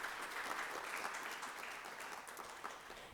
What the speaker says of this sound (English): Let's give a round of applause to our wonderful speakers.